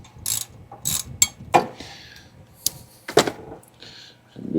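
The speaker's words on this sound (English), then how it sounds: "So we are going to have to go ahead and take these Allen head bolts off real quick." A ratchet clicks in short, sharp bursts while loosening Allen head bolts from the pulley on a 50-year-old Volvo 164E, close and crisp with brief metallic clinks and pauses between strokes.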